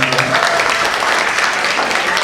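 Students applaud steadily at a musical discussion event on violence against women, a dense, even burst of clapping filling the room throughout, with faint voices mixed in.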